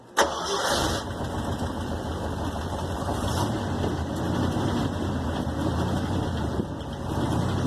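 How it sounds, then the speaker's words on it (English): A 1972 Ford F100 truck engine cranks and catches with a sharp burst, then runs steadily and is revved, its mid-pitched rumble loud and close throughout with swells as the throttle rises. "Rev it up like that, and that's where it was pulsating real bad."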